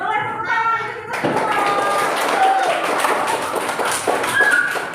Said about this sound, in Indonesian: Oke, boleh tepuk tangan untuk kita